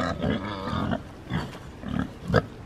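Pigs on a small farm grunt and snort in several short, close bursts, with low rumbling calls spread across a few seconds and no talk over them.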